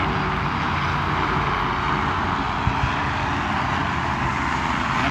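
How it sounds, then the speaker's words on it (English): A helicopter drones overhead near the Golden Gate Bridge in San Francisco, a loud steady engine and rotor roar that holds constant without voices. "That's a helicopter."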